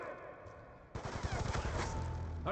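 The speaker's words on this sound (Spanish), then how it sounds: "¡Disparo efectuado!" Rapid automatic gunfire from the video game Black Ops 2 erupts about a second in and continues as a loud, dense burst of shots to the end, preceded by quieter game ambience.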